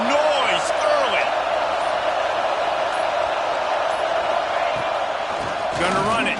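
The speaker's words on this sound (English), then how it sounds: "This crowd bringing the energy and noise early." Stadium crowd roar in a college football video game, a steady dense wash of noise held throughout at an even level, with brief louder swells near the start and end.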